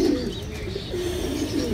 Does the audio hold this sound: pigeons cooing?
yes